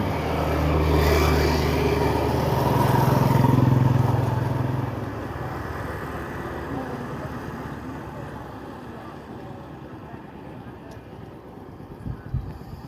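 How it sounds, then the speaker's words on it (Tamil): Car driving in fourth gear: a steady road and engine drone inside the car, louder at first and then settling into a softer, even hum with some wind noise and a few faint knocks near the end. "ஃபோர்த்து கியரில் இப்போ வண்டி போயிட்டு இருக்குது."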